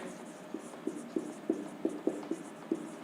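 Chalk or pen tapping and stroking across a board while formulae for polygons are written, a series of short distinct taps and scratches in an irregular rhythm, close and moderately quiet against a faint room hum.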